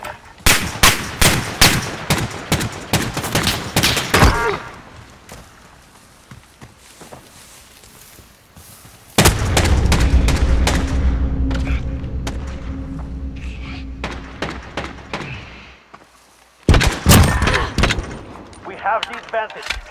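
Call of Duty gameplay brings rapid bursts of gunfire, then a long heavy rumbling stretch like an explosion or vehicle, and a final burst of shots, with game voices heard in between.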